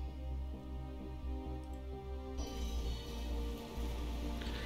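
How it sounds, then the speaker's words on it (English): Rain falls steadily in the naval video game War On The Sea, a constant soft patter on surfaces with low rumbling tones beneath, growing denser and brighter partway through. "And it's raining still"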